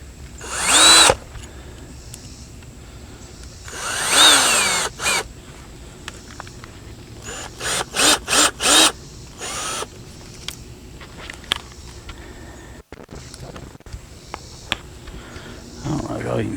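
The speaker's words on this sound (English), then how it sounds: "put some of these screws in it" A power drill drives screws into a wooden pallet compost bin, with two longer whirring runs followed by a rapid series of short bursts, loud and close, with quieter gaps between.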